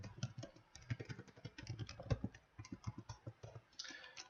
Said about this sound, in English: I am going to type in my sample login